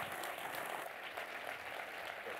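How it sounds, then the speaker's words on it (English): Audience applause for a panel at an entrepreneurship event forms a quiet, steady wash of many clapping hands, heard at a distance and without pause. "A round of applause, please, for our wonderful panel."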